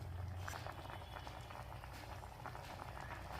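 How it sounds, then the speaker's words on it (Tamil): A pot of cauliflower and bengal gram curry bubbles at a steady boil, a soft continuous simmering patter with frequent small pops, faint and close. "கொதிக்க ஆரம்பிச்சிருச்சு."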